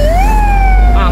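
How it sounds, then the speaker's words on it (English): An ambulance siren wails loudly in street traffic, its tone sweeping upward then holding and beginning another cycle, close by over a dense rumble of vehicles. "Ambulance."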